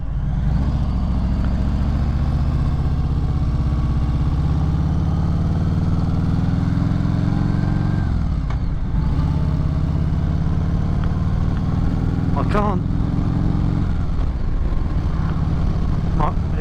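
A 2021 Harley-Davidson Sport Glide motorcycle on the road, its engine droning steadily at cruising speed with heavy wind rush and brief shifts in pitch as the rider changes throttle.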